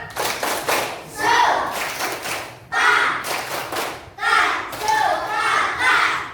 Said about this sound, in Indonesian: kalau sepakat semuanya, tepuk sepakat